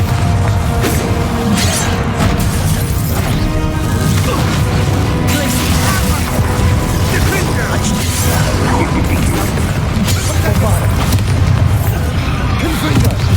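Repeated fiery blasting spells in the Hogwarts Legacy game, with booming impacts, crashes and whooshes during a loud, dense battle, while voices shout over the action.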